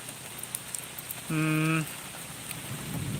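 The first rain of Baishakh falls in a steady soft hiss over roofs and open fields, broken midway by a short, clear tonal call.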